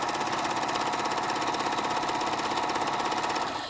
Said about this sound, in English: I'm going to stitch them on at a 5/8 inch seam allowance